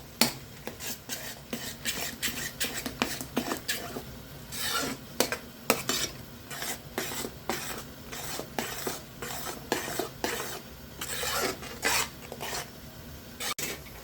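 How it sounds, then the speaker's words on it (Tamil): A spoon scrapes and stirs tomato chutney in a pan, with steady rhythmic metallic strokes and a faint sizzle underneath, close and without talk. "இப்போ போட்டுட்டு கிண்டி விட்டுக்குவோம்."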